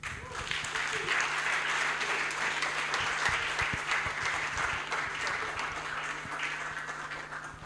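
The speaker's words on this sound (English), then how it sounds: "A bigger round of applause." Steady audience applause at a student anti-corruption awards ceremony, dense clapping filling the hall for several seconds with some voices mixed in.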